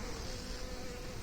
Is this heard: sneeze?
no